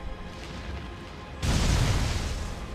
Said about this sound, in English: And then we normal bomb it to get it to fall down.